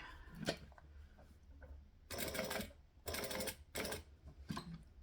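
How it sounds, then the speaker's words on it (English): A sewing machine stitches slowly along a fabric edge in three short, quiet bursts of rapid needle clatter, after softer clicks of the hand-cranked wheel. "go back into that first hole and then slowly stitch along the edge"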